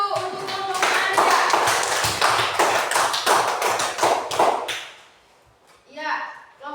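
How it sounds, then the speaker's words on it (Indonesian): Applause in a classroom for a student group: a dense stretch of clapping hands that stops fairly abruptly, with a brief voice afterward. "Tepuk tangan dulu untuk kelompok Anda"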